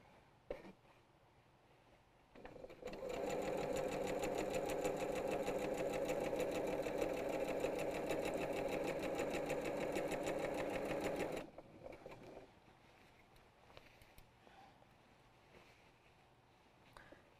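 Sewing machine stitching a long quilt border, running for about nine seconds as a steady, fairly quiet mechanical whir with a fast stitch rhythm, then stopping, followed by soft handling noises.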